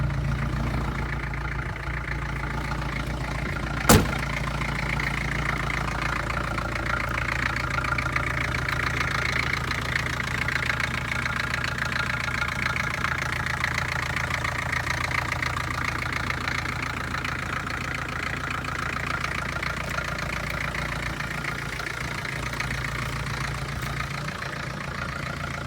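A 1984 Peugeot 505 GL TD turbodiesel idles with its exhaust disconnected, a loud, steady low rumble with a rough, knocking clatter, close up and continuous, broken once by a sharp click near the start.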